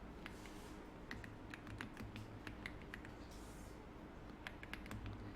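Fingers type on a computer keyboard in a quiet room, with a rapid, uneven run of soft close keystrokes and clicks over low background hum, while slide text is written in PowerPoint.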